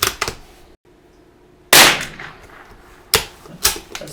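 Sharp .22 LR rifle shots at an outdoor range, several loud single cracks spaced a second or more apart, each with a short tail and quiet gaps between them.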